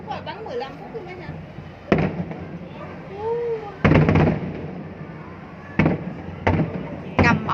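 A New Year 2024 fireworks display at Ninh Kiều, Cần Thơ, Vietnam, with sharp, loud bursts and pops at irregular intervals and crackling in between, as people talk and react nearby.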